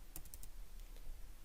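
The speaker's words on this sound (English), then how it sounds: "So we will type 11." A few quick, faint taps on a computer keyboard enter a date into a time-tracking spreadsheet, clustered keystrokes followed by a light click or two over low background hiss.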